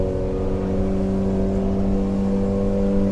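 A Yamaha 90HP outboard on a 2010 Arima Sea Ranger 19 boat runs at full throttle, holding a loud, steady, droning engine tone close by with no change in pitch.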